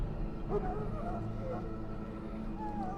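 A sick Mabari war hound in the kennels of the Dragon Age video game, ill after swallowing Darkspawn blood, lets out faint, high whimpers and whines over a low, steady background hum.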